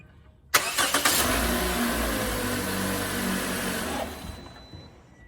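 Car engine starting during a battery-cable voltage-drop test: a short starter crank catches, then the engine runs loud and steady for several seconds before settling lower, close by, with no talking.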